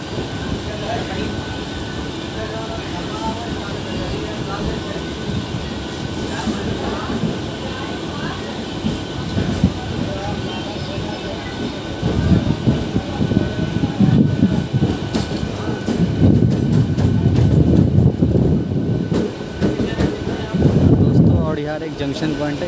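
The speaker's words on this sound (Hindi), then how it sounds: "इधर हमारी ट्रेन जा रही है" A passenger train rolls through a junction in India, a steady loud rumble of wheels and carriages that swells toward the end with rattling clatter, with voices talking underneath.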